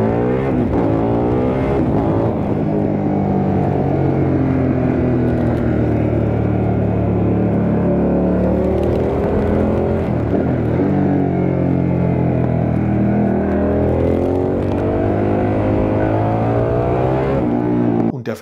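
A Harley-Davidson Pan America Special 1250 motorcycle engine revs hard and close, climbing and falling in pitch through several throttle bursts, loud and continuous with no voices.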